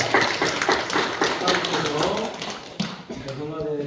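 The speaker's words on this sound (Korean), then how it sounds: "박수 올려드리도록 하겠습니다." Church congregation at an Easter service clapping together in a steady, dense patter that fades near the end as a voice and music come in.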